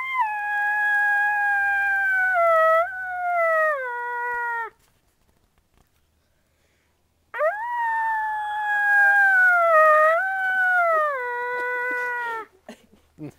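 A person imitates a wolf howl in two long, sustained, wavering calls, each lasting several seconds with a rising and falling pitch, separated by a quiet gap and delivered loud and close.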